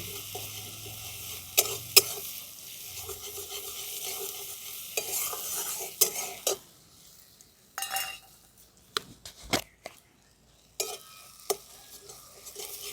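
Ginger-garlic paste fries in a pan with an even sizzle while a spatula scrapes and clinks in repeated bursts. Near the end the frying drops away to short, separate stirring knocks.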